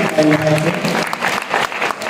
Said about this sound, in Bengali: তাহলে আমরা একটা জোরে হাততালি দিতে পারি।